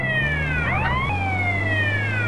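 An ambulance siren in Grand Theft Auto: San Andreas wails loudly and close, its tone sweeping down, jumping, then gliding again over a low engine rumble, with no talking over it.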